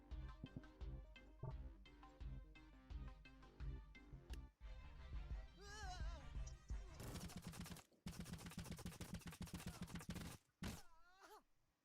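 Rapid bursts of minigun fire and other weapon shots from the TABS video game battle, dense and loud over a cluttered mix of game sounds, with groaning unit voices and a few brief gaps between volleys.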